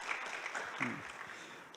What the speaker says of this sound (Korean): 큰 박수로 맞이해 주시기를 바랍니다.